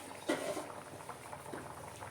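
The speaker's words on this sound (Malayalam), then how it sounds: "നമ്മുടെ മീൻകറി നന്നായിട്ട്" Kerala mackerel curry with coconut milk and kudampuli simmers on low heat in a pot, giving a faint, soft bubbling with one brief louder gurgle.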